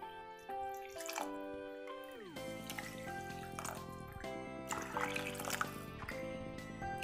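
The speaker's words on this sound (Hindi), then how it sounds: "अब इसमें हम पानी ऐड करेंगे।" Water is poured into a pan of sweet corn soup in a home kitchen, producing soft trickling and splashing that runs throughout, faint and mixed with gliding tones from the pouring.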